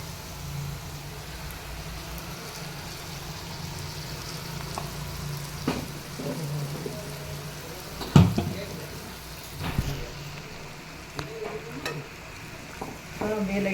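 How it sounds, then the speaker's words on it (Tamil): A ground paste of dried chili, ginger, garlic and coconut sautés in a pan for a dhaba-style green pea curry, giving a low continuous sizzle with occasional stirring knocks and scrapes. "அப்படியே லைட்டாக வதக்கி கொடுக்க வேண்டியதான்."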